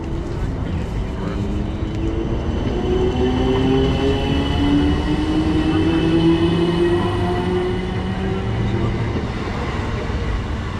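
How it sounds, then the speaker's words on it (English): Class 455 electric train pulling out of St Margaret's station, a loud, steady rumble with rising motor whine that swells and holds across the whole stretch; someone talks briefly over it. "departing out now we should have the 455s head off"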